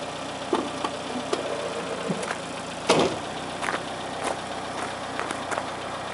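A 1971 Citroën DS 21 IE idles with its hydropneumatic suspension rising back to normal road height, a steady low engine hum broken by scattered clicks and knocks, one louder thump near the middle.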